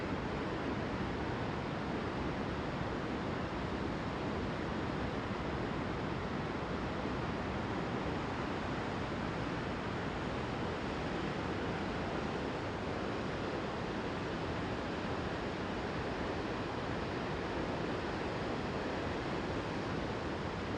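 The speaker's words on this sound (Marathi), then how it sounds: "मंगरूळ बांधावरील काही पाण्याचा विसर्ग चालू असलेल्या दृश्य आपण आज पाहत आहोत" Water discharging over the Mangrul dam makes a steady, dense roar of rushing water that holds constant and loud for the whole stretch, with no voices.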